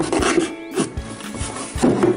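A few quick back-and-forth rasps of a blade sawing cardboard, close up, scratchy and uneven in rhythm.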